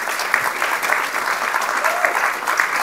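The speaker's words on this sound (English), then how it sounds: "would you mind please giving a round of applause to our wonderful panel, Richard, John and Joe?" An audience applauds a discussion panel at a public forum on measuring national progress and prosperity, a steady dense patter of many hands clapping throughout, fairly close and even, with no talk over it.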